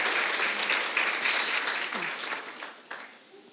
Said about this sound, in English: Let's give a big round of applause to Jessica DiCarlo for her dedication